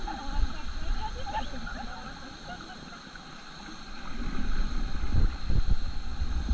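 River raft paddled on the water at Kithulgala, with splashing and wind over the boat and people talking, louder bursts of water near the end.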